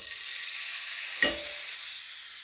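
Butter sizzles in a stainless steel pan on the stove, a steady close hiss that runs throughout, broken once midway by a short clink or stir.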